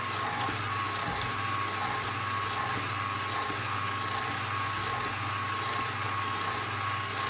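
Electric mixer mixing clam dip, a steady continuous motor hum with a churning undertone, moderately quiet and unbroken, with no talking.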